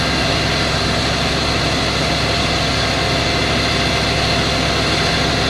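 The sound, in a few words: concrete pump truck engine revving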